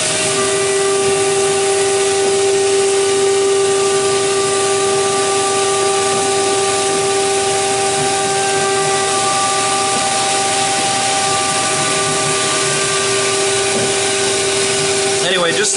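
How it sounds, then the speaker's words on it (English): A milling machine cuts the edges of a metal billet with a chamfer mill, making a loud, steady, high-pitched tonal whine that holds constant throughout, with no talk over it. "Now we're going to grab a chamfer mill and start to work around the edges"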